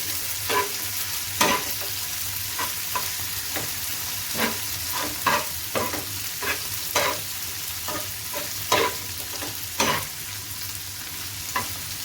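Minced meat keema being stir-fried on a tawa for a spicy dish, with a steady sizzle under repeated scraping and stirring strokes from a spatula, close and even with no talking.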